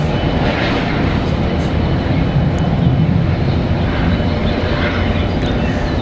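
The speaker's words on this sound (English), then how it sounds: "Looks like we got a 777 out there, United, rolling." United Boeing 777 rolling down the runway at Washington Dulles International, a loud, steady broadband jet roar that holds constant throughout with no break or talk.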